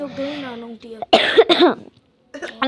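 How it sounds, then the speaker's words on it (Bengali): A few loud, close coughs burst out in quick succession on a cold evening, framed by brief voiced sounds before and after. "আমার খুব কাশি পাচ্ছিল"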